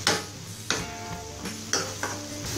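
Capsicum pieces stirred through a hot chilli masala in a pan, a soft sizzle broken by about four sharp spoon scrapes and clacks at a loose, uneven rhythm, close by with no talking.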